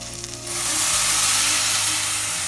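Tamarind water poured into a pan of sautéed brinjal sets off a loud, sudden sizzle that quickly fills the pan and holds steady and close, with no one talking.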